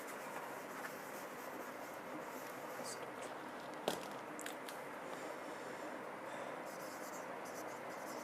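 Faint, steady scratchy writing strokes run continuously against a quiet room hiss, with one brief tap midway, as grammar notes are written out for a Bengali-language lesson.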